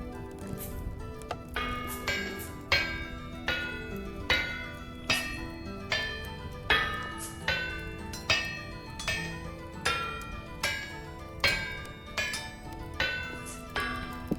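Smithing in the survival video game Vintage Story: steady metallic hammer strikes on an anvil, about one ringing blow per second, repeated evenly throughout at moderate volume with no talk.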